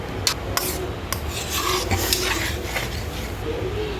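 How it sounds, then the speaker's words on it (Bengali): A spoon scrapes and rasps through a yam and potato curry just after ghee goes in. The close, repeated rubbing strokes against the pan carry on steadily for several seconds with no talk. "সবশেষে দিয়ে দিলাম আমি একটু ঘি দিয়ে আমি একটু নাড়াচাড়া করে নিলাম"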